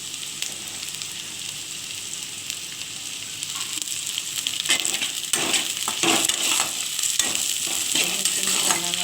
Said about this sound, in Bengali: চিংড়ি মাছটা কিন্তু আমি একটা করে ভাজবো না, এইটার সঙ্গে ভেজে নেব।